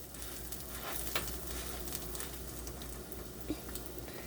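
Egg-soaked French toast sticks fry in a pan with a soft, even sizzle and occasional small pops, close but fairly quiet and steady throughout, with no talking.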